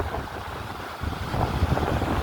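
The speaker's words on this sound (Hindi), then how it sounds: "यहाँ तो पानी आ रहा, देखो पानी की सबूत है, पानी यहाँ टकरा खा गया" Arabian Sea waves breaking on the rocks of Rock Beach, Pondicherry, a steady broadband wash of surf with wind buffeting the microphone and swelling slightly louder toward the end.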